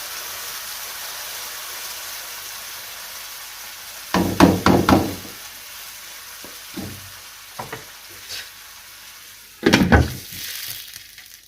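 Keema (minced meat) with spices and water simmers covered over a low flame on a stovetop, giving a soft steady sizzling hiss broken by a few brief clattering knocks.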